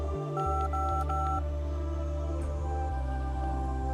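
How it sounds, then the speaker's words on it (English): A phone number is keyed in on a handset in the video game Lost Records: Bloom and Rage, a run of loud, evenly spaced touch-tone beeps over a steady background hum, with no talking. "I'm gonna call the vet."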